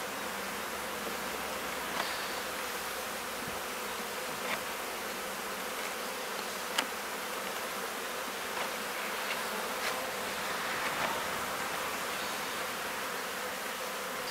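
A swarm of honeybees buzzes steadily and fairly quietly while being moved into a hive, a continuous insect drone with a few faint clicks and knocks and no talking.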